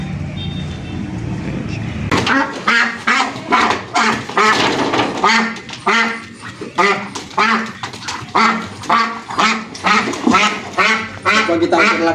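Muscovy ducks being raised for size give a dense run of loud, rhythmic quacks and hissy calls close by, repeated in quick bursts after a short quieter lead-in with background noise.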